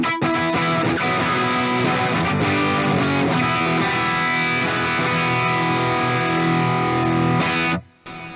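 An electric guitar played through a Friedman amp-in-a-box pedal on a heavily distorted rock setting strums loud, thick, saturated chords for several seconds before cutting off abruptly.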